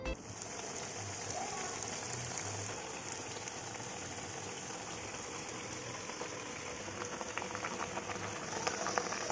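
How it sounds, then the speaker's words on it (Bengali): Malpua batter sizzling as it fries in hot oil, a steady dense crackling hiss that runs unbroken throughout at moderate level, with no talking. "আর মালপোয়া ভাজার এই আওয়াজটা আহা কি ভালো লাগে না শুনতে।"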